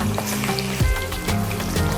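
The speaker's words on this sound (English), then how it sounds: "We're gonna rest this fish into this oil and get it nice and crispy on both sides" Seasoned fish frying in hot oil for a Caribbean stewed fish dish, giving a steady, close crackling sizzle with scattered pops and spits throughout, no voices.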